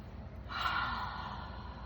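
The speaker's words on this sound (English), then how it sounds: "One more deep breath." A single slow, deep inhale drawn close to the microphone, rising and then holding steady as a soft airy rush with no talking.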